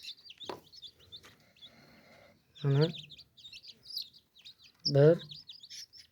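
Small chicks peep in high, rapid chirps scattered throughout, close and fairly soft, while someone speaks in short bursts over them.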